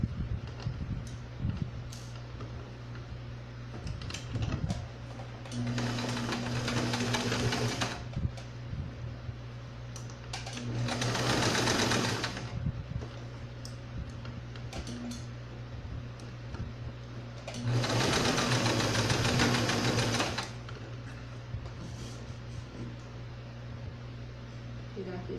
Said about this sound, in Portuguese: levar para a máquina e fazer uma costurinha na cintura aqui para segurar todas essas preguinhas